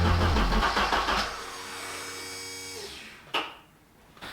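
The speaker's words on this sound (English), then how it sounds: "the car is just turning over, turning over, turning over. It is not starting up" Ford Sierra Sapphire RS Cosworth engine cranks steadily over and over without catching, a loud rhythmic starter churn for about three seconds, then it stops and a single brief clunk follows.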